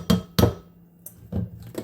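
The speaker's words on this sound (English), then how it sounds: "Beat it on the side of the bowl just a little bit to help get the remnants out." A measuring cup knocked against the side of a mixing bowl while making orange chicken, giving two sharp close taps, a short pause, then two lighter knocks.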